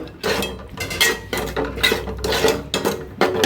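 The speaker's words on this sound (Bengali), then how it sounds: "শুধু একটু নাড়াচাড়া করে দিই মুসুর ডালটা" Masoor dal is stirred in a metal pot, with repeated close clanks and scrapes of a spoon against the pot's sides in an uneven rhythm, loud and with no talk.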